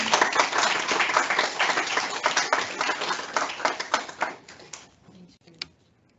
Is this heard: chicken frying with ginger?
no